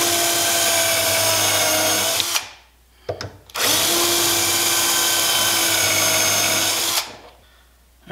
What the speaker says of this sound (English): I'm going to use a self-centering bit to center out these holes, to drill, pre-drill for the holes